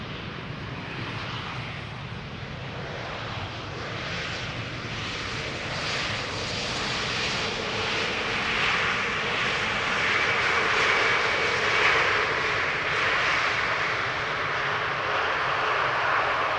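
An Embraer 190 jet airliner arriving near Amsterdam Schiphol passes overhead, a steady broad engine roar that swells slowly and holds loud and near throughout, with no talk.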